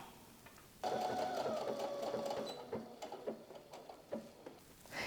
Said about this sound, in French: je fais une double couture